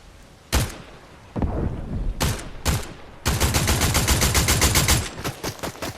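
Gunfire in the Fortnite battle royale game: a few separate loud shots, then a long rapid burst of automatic fire with a couple of trailing shots, sharp and close with no talking.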